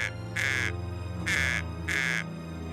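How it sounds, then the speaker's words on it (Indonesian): Crow cawing in three harsh, evenly spaced calls over a steady droning background, moderately near, with no talking. "Itu kan burung gagaknya kepunyaan dukun yang gubuknya di pinggir kampung kita."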